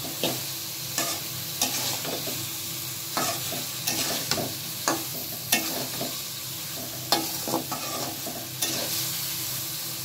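Drumsticks and potatoes frying in a well-cooked spiced masala, a steady crackling sizzle broken by regular scraping knocks of a spoon stirring against the pot, close and continuous with no talk.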